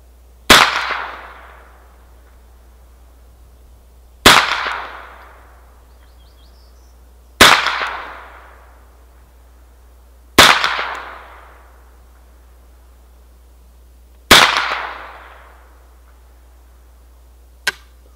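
A Ruger 10/22 rifle fires five single shots at a target, sharp loud cracks spaced roughly three seconds apart, each with a short decaying echo, then a faint click at the end.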